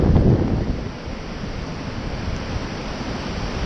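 Wind blows strongly across a beach dune, a loud, broad rushing roar with gusty buffeting on the microphone that eases slightly and then holds steady, with no voices.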